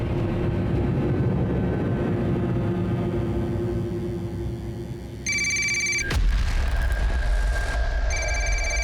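A telephone rings in repeated electronic bursts, fairly loud, over a steady low rumbling background with a brief break midway.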